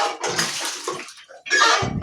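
Water poured out in bursts while street food is made, apparently puris being fried with potatoes nearby, with a gap in the middle, fairly loud and close, no talking over it.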